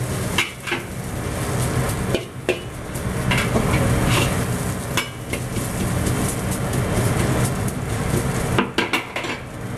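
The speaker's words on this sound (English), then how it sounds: "you need to pan fry the noodles" Metal utensils clatter and scrape against a pan while noodles pan-fry for Cantonese shrimp chow mein, with irregular knocks and stirring over a steady sizzle, close and continuous without talk.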